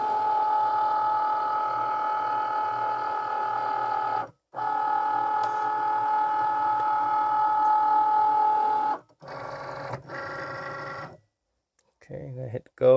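A Cricut Maker cutting machine runs while feeding and cutting faux leather, giving a steady whirring, tonal motor drone that pauses briefly, resumes, then breaks into shorter stop-start movements; a person talks at times.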